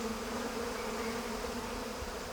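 Angry honey bees swarm around a wild hive high above the ground, a dense, steady buzzing drone that fills the air continuously and close by.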